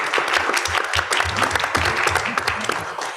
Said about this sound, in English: now you're gonna have to applaud for each and every person